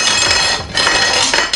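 Metal rotisserie holder being worked loose from a NuWave Brio 14-quart digital air fryer oven after cooking steak, a short burst of close metallic clanks and scraping clinks, loud with no talk.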